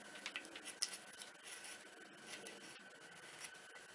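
A hand gouge carving wood, producing soft scraping and rasping cuts in an irregular series, quiet and close with no talk.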